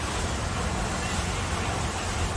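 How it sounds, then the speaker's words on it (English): Steady rushing water, like a fountain splashing, a continuous broadband hiss with no breaks. "The fountain."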